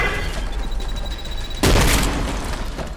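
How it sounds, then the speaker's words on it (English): Shotgun blasts and contact grenade explosions in the first-person shooter Trepang2, a rapid crackle of gunfire followed by a loud, sudden booming blast that lingers into ringing fire. "you're just annihilating enemies with shotgun blasts and contact grenades"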